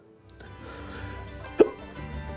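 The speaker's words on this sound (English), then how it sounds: "Hiccups" A single short hiccup stands out over a quiet game soundtrack, a brief sharp gulp sounding once and alone.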